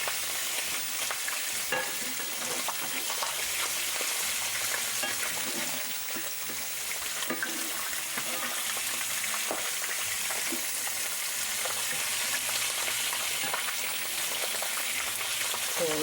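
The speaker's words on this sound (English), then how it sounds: "Just give them a little fry on the other side." Food, likely chicken pieces, sizzles and fries steadily in a pan, a continuous crackling hiss with small pops throughout, close and evenly loud, no voices.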